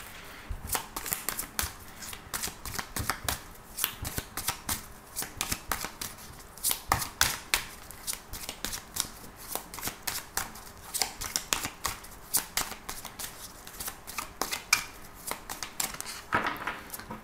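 Tarot cards are shuffled continuously and close up, producing a dense, crisp riffling and flicking patter with no voice over it.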